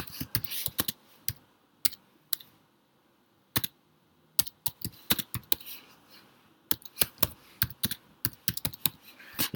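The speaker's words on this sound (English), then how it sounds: "Okay, so you type a comment in there." A comment typed on a computer keyboard, irregular bursts of sharp close key clicks separated by brief pauses, with no voice.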